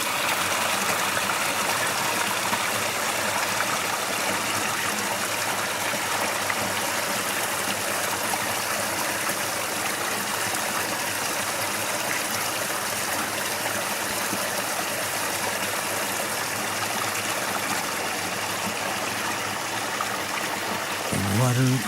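A rushing stream beside a trail among moss-covered rocks, a dense steady wash of flowing water, loud and close from start to finish, with a brief thump near the end.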